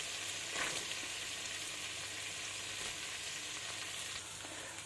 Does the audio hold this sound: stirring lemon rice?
yes